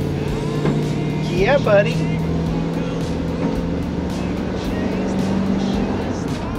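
A camper van engine accelerates on the road in a steady, rising drone with some tonal whine, while people talk and cheer over it close to the microphone.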